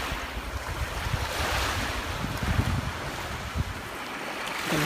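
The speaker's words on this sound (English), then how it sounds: "Oh dear, the waves knocked down the Teletubbies." Ocean surf washes in around a toy play scene with a steady, rushing roar. Wind buffets the microphone throughout, with no voices heard.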